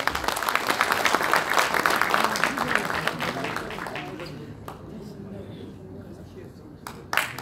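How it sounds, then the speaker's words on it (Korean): Audience applause at a football association inauguration ceremony in Ansan, a dense burst of clapping that is loud at first and thins out, with a voice speaking faintly underneath. "힘찬 박수 부탁드리겠습니다."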